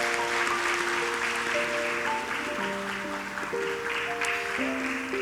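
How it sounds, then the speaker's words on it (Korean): Sustained applause from a church congregation during a Sunday worship service, a steady dense wash of clapping lasting several seconds with sustained musical tones playing underneath. "큰 박수 부탁드립니다."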